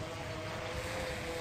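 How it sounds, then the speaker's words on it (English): Continuous low rumbling wind buffets the microphone outdoors, with a faint steady tone running underneath. "A little windy out here too."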